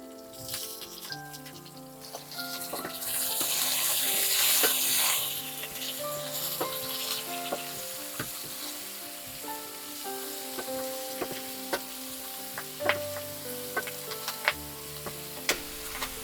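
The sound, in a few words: leeks frying in a pan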